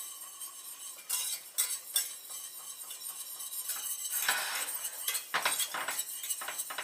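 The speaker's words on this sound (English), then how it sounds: "I'm going to make a roux for this gravy. So I'm just going to grab a little bit more flour." Flour stirred into hot fat in a pan to make a roux for gravy, with soft sizzling and scraping, clinking utensil strokes against the pan in an irregular rhythm, close and fairly quiet.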